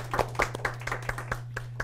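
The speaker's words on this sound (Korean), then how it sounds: "박수 부탁드리겠습니다." A studio audience claps to welcome a guest on a live talk show, with sharp individual hand claps in an uneven rhythm over a steady low hum.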